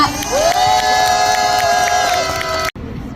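Crowd at an outdoor candlelight memorial rally cheers and shouts to welcome a speaker, a loud sustained roar with a sustained tonal whoop running through it, then cutting off abruptly near the end.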